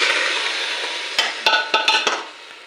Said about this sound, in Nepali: यसरी नै चलाइबस्नुपर्छ